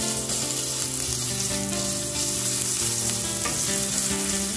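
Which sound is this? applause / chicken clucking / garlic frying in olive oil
garlic frying in olive oil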